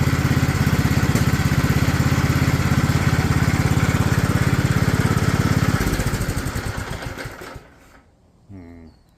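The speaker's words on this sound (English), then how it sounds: "That bit of a misfire." Small Cub engine running with a misfire, a loud, steady chugging with uneven beats that fades and cuts out toward the end.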